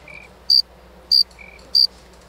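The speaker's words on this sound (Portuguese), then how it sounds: "Bota o grilo." Cricket chirping sound effect: three short, shrill high chirps at an even pace, each trailed by a fainter lower trill, loud and close over a quiet background with no talk.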